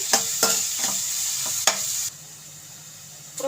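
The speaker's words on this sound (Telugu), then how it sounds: "అలానే క్యారెట్ బీన్స్ కూడా వేసుకోవాలి ఇలా మొత్తం కలబెట్టుకోవాలండి" Carrots and beans with other vegetables are stirred in a hot pan for veg fried rice: a steady close sizzle with several sharp spatula scrapes and clacks. The frying hiss drops suddenly to a quieter simmer partway through.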